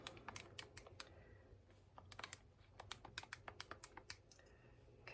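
Rapid, quiet clicks of keys being pressed to enter numbers into a calculator, coming in uneven bursts at close range with no voices.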